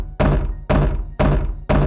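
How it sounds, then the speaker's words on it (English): A door in the audio video game Manamon gives four heavy, evenly spaced knock-like thumps about half a second apart, close and loud with no talking. "Door. A door, which is used to go into buildings."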